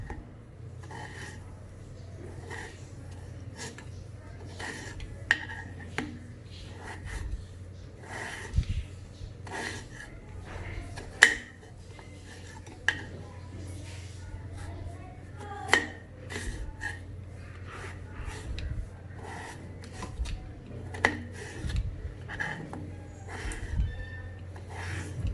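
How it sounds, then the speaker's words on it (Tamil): Potatoes being peeled and cut into wedges on a board, scattered rasping scrapes and sharp knife taps and clicks spaced irregularly over a quiet background. "இந்த மாதிரி பீல் பண்ணிட்டு நம்ம வெஜ்ஜஸ்க்கு கட் பண்ற மாதிரி கட் பண்ணிக்கலாம்"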